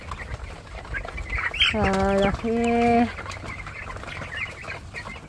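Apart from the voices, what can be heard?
chickens clucking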